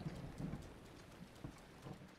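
Steady rainfall with soft patters and low rumbling thunder rolls during a storm in the video game Zelda: Breath of the Wild, heard faintly and continuously throughout with no talking.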